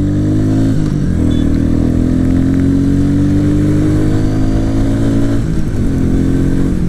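A Royal Enfield Meteor 350 motorcycle accelerates hard, its engine loud and close, revving steadily upward through a gear with a brief dip around a shift and no talking.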